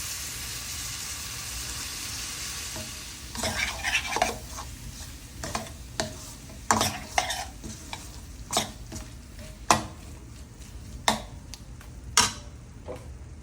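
Green peas for a potato curry are stirred in a hot frying pan, giving a steady sizzle with repeated sharp scraping and clinking strokes of a utensil against the pan, close and fairly loud, with no talking.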